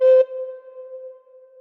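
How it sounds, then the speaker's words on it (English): A single sustained recorder note played with the thumb hole and hole 2 covered, with a strong breathy attack that settles into a steady, pure tone and slowly fades, heard alone. "covering the thumb hole, put finger number 2 on hole number 2 and blow once"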